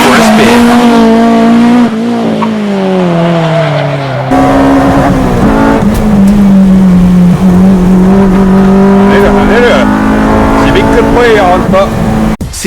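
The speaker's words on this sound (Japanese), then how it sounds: "Arito takes the Seeker EG6 for a spin" A Seeker EG6 Civic is driven hard on a race track, its engine note loud and sustained as it revs and shifts through gears, rising and falling with each corner, with faint tire noise and a voice speaking over it.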